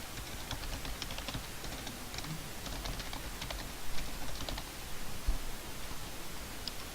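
Someone types a name on a computer keyboard while working in CAD software, producing a quiet, irregular run of light key clicks with a few brief louder taps, with no talking.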